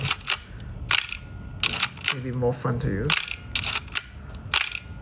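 Sharp camera shutter clicks repeat in quick succession, some in pairs, with a person briefly speaking between them.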